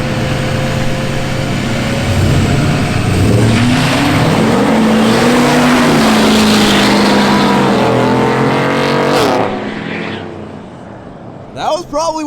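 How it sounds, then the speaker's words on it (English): Wes's truck revs hard during a race, a loud continuous engine roar rising and falling in pitch for several seconds before easing off, with people talking excitedly over it. "God, Wes's truck sounds good."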